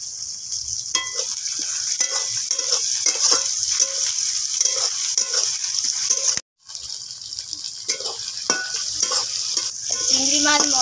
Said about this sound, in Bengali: চিংড়ি মাছ মশলাকেও 2 থেকে 3 মিনিট মতো ভালো করে নেড়ে নেব।